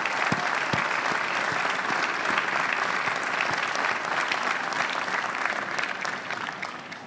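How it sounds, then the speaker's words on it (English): Loud sustained applause from a university commencement audience, a dense, even wash of clapping hands that continues steadily throughout and fades slightly toward the end, with no talking over it. "how about another round of applause for the parents and the families and the friends and the entire Notre Dame"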